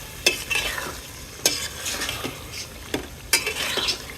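Beef curry stirred and fried in a pan, with repeated scraping stirs roughly every second and a half over a continuous sizzle, close and fairly loud, without talk.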